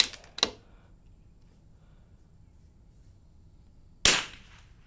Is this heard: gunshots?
yes